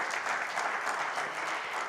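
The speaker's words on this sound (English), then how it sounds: "that was generous applause, but I would like you to do it again for our fantastic panel" Steady, dense applause from a conference audience fills the whole stretch, many hands clapping evenly at moderate loudness with no voices over it.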